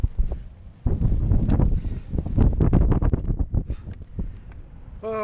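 Gusty wind buffets the microphone on a wet, blustery coastal walk at Widemouth Bay in North Devon, a steady roar with uneven loud gusts.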